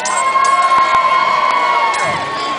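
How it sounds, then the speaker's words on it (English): A crowd of children and adults cheers and whoops for Ivanhoe at a living chess game, a loud sustained roar of shouting with a few sharp claps near the start. "cheer for Ivanhoe!"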